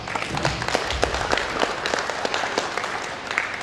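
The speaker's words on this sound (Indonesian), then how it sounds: "Sumber kita yang luar biasa, mari sama-sama kita berikan aplaus." An audience at a Santri Day 2023 gathering in Dumai breaks into steady applause, dense overlapping clapping with a few sharper claps standing out, sustained at even loudness throughout.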